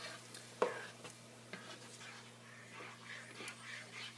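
Garlic stirred in a pan over medium heat for gravy, heard as faint, sparse scraping strokes and a light clink over a steady low hum.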